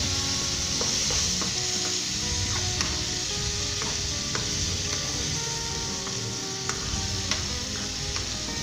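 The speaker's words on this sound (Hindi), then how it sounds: "अब हम इसके अंदर जो हमने गाजरें काट के रखी है शामिल कर देंगे।" Chopped carrots for a carrot salan sizzle loudly and steadily in a pan, with occasional sharp clicks as they are stirred and no voices.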